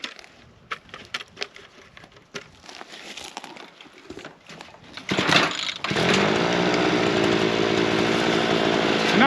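A home-made mini mulcher that has just been upgraded starts up after some knocking and handling, then settles into a loud, steady, close motor roar with a chainsaw-like whine that runs unbroken to the end.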